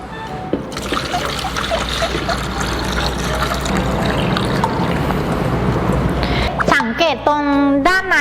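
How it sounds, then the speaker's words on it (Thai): Water poured into a Petwant W2-UV automatic pet water fountain with a 1.5-litre bowl, a steady close trickle and splash running for several seconds before stopping, followed by a voice speaking. "จะเทน้ำลงไปเลย"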